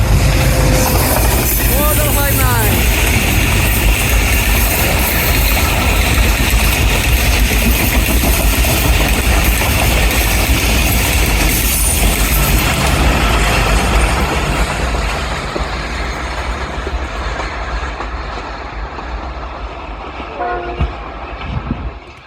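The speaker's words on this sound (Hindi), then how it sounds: "13 अब अवाम एक्सप्रेस GU20 के साथ आ रही है।" Awam Express passenger train hauled by a GU20 locomotive rumbles loudly and steadily past Kaluwal station on a sharp curve, with a brief horn early on, fading gradually toward the end as someone talks over it.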